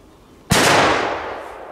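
A single loud, close bang from a Polish firecracker packed with a thick gypsum bomb, a sharp blast that rings out and decays over about a second.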